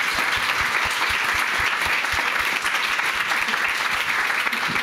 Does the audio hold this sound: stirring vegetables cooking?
no